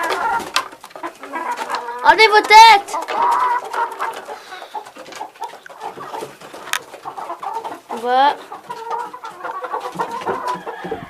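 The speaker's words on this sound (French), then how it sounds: "Les poules qui sont bien en train de se régaler" Hens clucking and squawking as they eat their feed at a farm, with a couple of louder rising calls standing out, while a person speaks briefly nearby.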